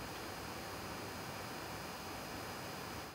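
GMKtec NucBox K8 Ryzen mini PC idling, its fan giving a faint, steady broadband hiss with no change and no voices.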